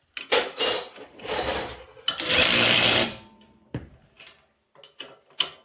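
Craftsman wrench tightening the mount bolts on a New Holland plow frame, heard as close, intermittent metallic ratcheting and clanking in short bursts with brief pauses between them.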